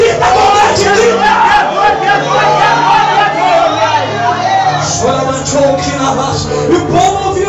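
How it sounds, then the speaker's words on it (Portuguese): Church congregation shouting and crying out together in worship, a loud dense babble of overlapping voices and whoops over sustained low organ or keyboard tones, with a preacher's voice rising above. "grita com grande grita"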